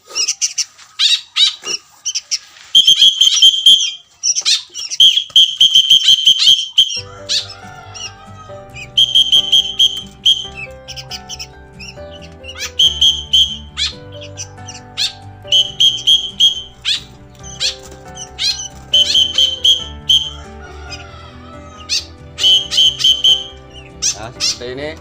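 Repeated bursts of a bird-training whistle blown for a free-flying bulbul as it is taught to eat crickets, the high shrill tones coming in short clustered blasts and pauses, joined midway by a steady musical background and occasional talk.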